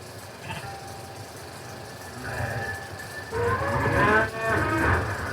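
Cattle moo several times on a Norwegian farm, the calls overlapping and growing louder toward the end over a low outdoor rumble.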